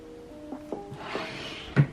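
A heavy drawer in a messy bedroom pulled open: a few short wooden thunks and slides ending in one louder knock, close and alone.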